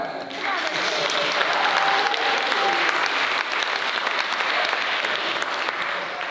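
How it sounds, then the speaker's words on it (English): Audience applause at a college convocation lecture, a loud sustained wash of clapping from a large crowd that holds steady for several seconds without speech. "I want them to celebrate you with a clap"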